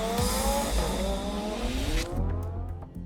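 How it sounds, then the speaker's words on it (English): A Lamborghini Huracán supercar with a 610-horsepower V10 engine drives past, its engine note rising and shifting with a brief tire squeal, loud and close before cutting off. "This is the Lamborghini Huracan."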